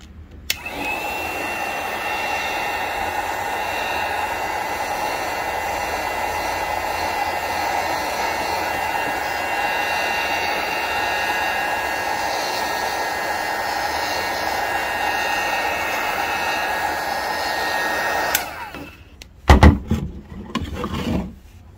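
A heat gun blows hot air onto interior trim of a 2022 Ford Maverick truck, a loud steady whine and rush lasting about eighteen seconds before switching off, followed by a few handling clunks.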